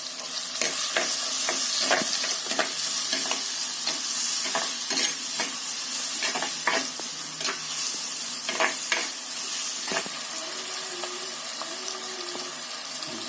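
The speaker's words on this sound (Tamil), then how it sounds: "வெங்காயம் சீக்கிரம் வதங்கும்." Onions with a pinch of salt sautéing in a pan for a white kuruma: a steady, close sizzle runs throughout, broken by repeated sharp scrapes and clicks of a spoon stirring, with no voices.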